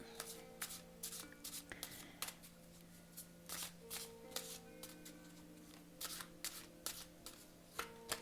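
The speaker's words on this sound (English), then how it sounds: "All right, so I'm just shuffling these cards." Cards being shuffled by hand in repeated crisp riffles and soft slaps, close and fairly quiet, with short pauses between bursts.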